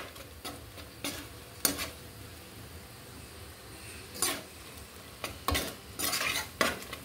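A spatula stirs vegetables and shrimp through hot oil in a pan, giving irregular scraping strokes in short bursts over a faint, low sizzle, with a denser burst of clatter near the end.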